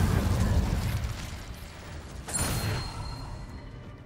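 The Incendio fire spell cast in the Hogwarts Legacy video game: a steady rumbling bed that swells into a short fiery burst near the middle, followed by a fading whoosh, with no voices.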